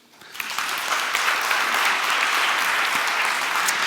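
Audience applause for a chess contestant at a live chess challenge event with Magnus Carlsen: clapping starts abruptly, swells within half a second and holds as a loud, dense, even wash of hands from a sizeable crowd.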